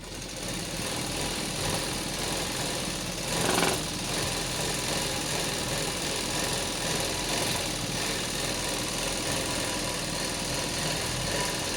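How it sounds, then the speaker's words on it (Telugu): An electric sewing machine stitching a long frock, running as a steady continuous whir at close range from start to finish, with one brief louder bump near the middle. "ఇప్పుడు అవి ఇలా కుట్టుకోవాలి"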